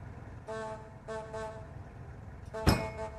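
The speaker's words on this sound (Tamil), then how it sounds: "இந்த மாதிரி ஹார்ன் அடிக்காதன்னு பல முறை நான் அவன்கிட்ட சொல்லியிருக்கேன்." A vehicle horn honks in a couple of tonal blasts over low engine rumble, with a sharp thud near the end, moderately close.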